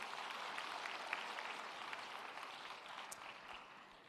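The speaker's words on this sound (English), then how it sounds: "Can we give them a big round of applause" A conference audience at an African food-systems event applauds in the distance. The faint, even clapping holds steady for about four seconds and slowly tapers at the end.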